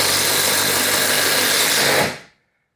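A Milwaukee impact driver whirs loud and steady for about two seconds, then winds down quickly to silence, with no talking over it.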